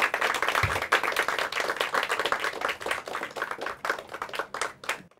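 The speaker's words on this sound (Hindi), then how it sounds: "इनका हम ज़ोरदार स्वागत करते हैं तालियां बजा के।" A school quiz audience welcoming the competing teams with steady, fairly quiet applause of many hands clapping, thinning out near the end.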